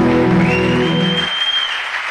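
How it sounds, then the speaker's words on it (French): A church congregation at a Sabaoth worship meeting claps in a short, dense burst of applause. A sustained tone runs beneath it and fades midway, leaving the clapping alone. "Acclamez pour vous-même d'abord."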